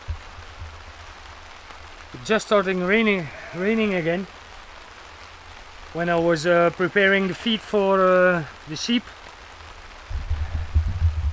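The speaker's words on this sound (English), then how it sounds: "It's just starting raining again" Rain falls outdoors at a sheep farm, a soft steady hiss of drops heard beneath a person speaking in two stretches, becoming more noticeable near the end.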